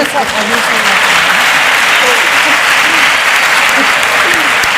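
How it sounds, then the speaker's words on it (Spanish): Loud, sustained applause from the audience at a school talk, a thick continuous roar of clapping with no break. "Gracias por estos aplausos que tanto nos merecemos"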